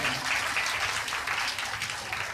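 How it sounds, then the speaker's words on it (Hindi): An audience at a religious gathering in Govindapuri, New Delhi claps loudly and continuously, dense steady applause filling the whole stretch without speech. "आप लोग इनके लिए जोरदार ताली बजाओ"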